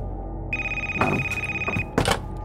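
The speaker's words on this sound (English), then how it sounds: "The phone rings on the table." A telephone rings on a table in two electronic trilling bursts, loud and close, with a steady high tone running underneath; no voices are heard.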